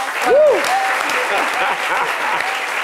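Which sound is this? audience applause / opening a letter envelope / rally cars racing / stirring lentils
audience applause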